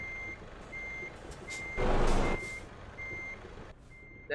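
Reversing alarm on a truck being parked in Euro Truck Simulator 2, regular beeps pulsing over an idling engine, briefly swamped by a louder hissing rush partway through.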